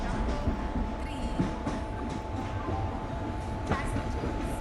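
An AC double-decker express train at an Indian railway station rolls past with a steady rumble and faint clattering wheels, joined by a brief squeal, while a station announcement plays in the background.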